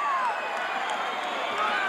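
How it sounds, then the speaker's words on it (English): A wrestling arena crowd roars and cheers for Tito Santana in a steady, dense wash of noise, with a voice speaking faintly beneath it. "They're roaring for Tito."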